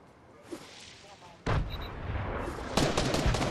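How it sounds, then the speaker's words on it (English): Grenades explode in the Fortnite video game, with booming blasts arriving in quick succession over a rumbling, gunfire-filled background, loud and close. "That was me throwing grenades."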